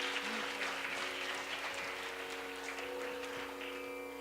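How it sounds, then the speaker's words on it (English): An audience applauds after a dance performance, a faint, steady patter of clapping heard from a distance over a sustained tonal hum. "Please give her another round of applause."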